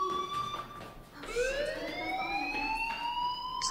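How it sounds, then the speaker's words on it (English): In the video game Life Is Strange, an alarm sounds with a sustained electronic tone that sweeps upward partway through, loud and close, with no talking. "Do you hear that fire alarm?"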